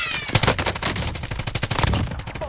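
Rapid automatic gunfire from the video game Warzone rattles in dense bursts, loud and close, over about two and a half seconds.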